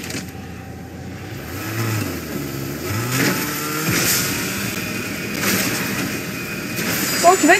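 A car engine revving in a Battle Royale video game, a rising and falling motor whine that swells and drops in pitch over a steady game background, with someone talking over it.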